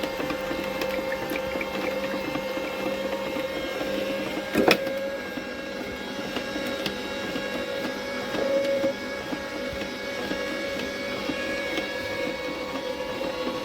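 A Hoffmans HM 639 juicer runs juicing ginger and turmeric, a steady close motor hum with a faint tonal whine, broken once by a brief knock.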